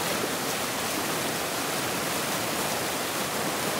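Water spilling over the old reservoir dam, the Açude Velho, into a stream, a loud unbroken roaring rush that stays even throughout with no voices.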